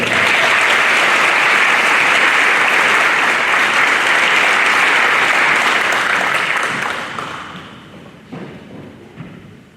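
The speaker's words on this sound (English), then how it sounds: "So please give a round of applause to our Best and Brightest semifinalist, Aaron Calera." Audience at a senior awards ceremony breaks into loud, sustained applause, dense and even for about seven seconds before fading into scattered last claps.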